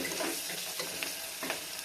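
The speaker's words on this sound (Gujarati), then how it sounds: "પછી આપણે એમાં ડુંગળીનો વઘાર કરશું" Onion fries in hot oil with crackled mustard seeds and cumin for Gujarati-style batata poha, a close sizzle broken by a few soft stirring scrapes.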